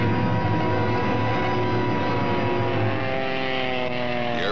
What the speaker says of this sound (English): The airplane had to dive and turn to escape the blast.